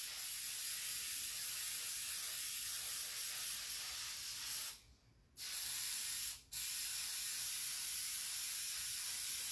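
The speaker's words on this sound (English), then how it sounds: "And now I'm going to spray the bottom and apply the second coat of glitter." Aerosol spray hissing onto the bottom of a fabric tumbler during glitter rim crafting, a steady close spray broken by two short pauses.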